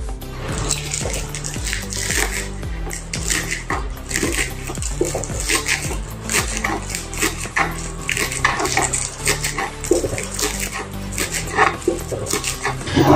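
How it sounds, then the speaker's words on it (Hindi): A knife chops green onions on a board in a quick, even rhythm of crisp taps, close and fairly loud, continuing steadily with no voices. "हरा प्याज काट लेंगे पहले"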